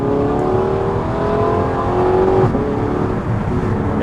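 An Audi R8 running through a tunnel, its engine and exhaust droning loudly and steadily with a rising whirr and a brief sharp crackle as it downshifts, the sound reverberating off the walls.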